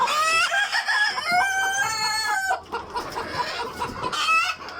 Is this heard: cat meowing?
no